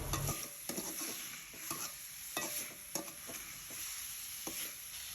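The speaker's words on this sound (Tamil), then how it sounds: "இப்போ இதையும் நல்ல ஒரு முறை மிக்ஸ் பண்ணிக்கோங்க." Devilled prawns frying in a pan over raised flame while being stirred, a loud continuous sizzle broken by scraping spoon strokes and occasional knocks against the pan, up close with no talk.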